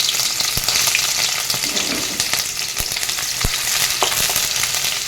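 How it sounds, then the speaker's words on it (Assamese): A loud, dense sizzle of onions frying in hot oil fills the clip, with scattered sharp pops and scrapes from stirring. "তেলখিনি গৰম হৈছে মোৰ ইয়াতে এতিয়া মই পিয়াজখিনি দিলোঁ"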